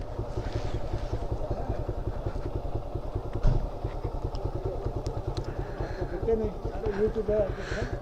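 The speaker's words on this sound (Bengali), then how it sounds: "তো চলো বাইকটাকে পার্কিং করি।" A motorcycle rolling in to park at an eco park in the Darjeeling hills, its engine throbbing steadily and close throughout under continuous nearby talking.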